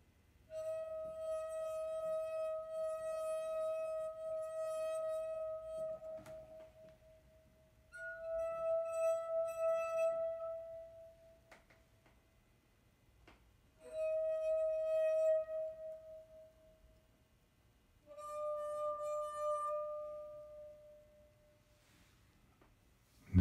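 Drinking glasses ring with sustained, pure resonant tones in four separate long notes with pauses between, first from glass number 4 and then from glass number 1, each note clear and slowly fading.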